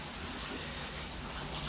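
Rain falls steadily outdoors, a soft continuous hiss of drops on surfaces with no other sounds.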